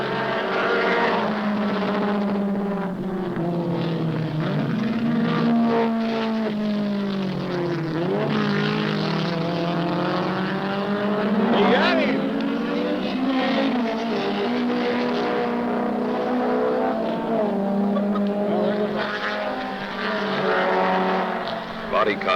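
A 1971 Alfa Romeo race car is pushed hard around a track, its engine howling close and loud through rising and falling gear changes that sweep up and down across the whole stretch, while a narrator speaks over it.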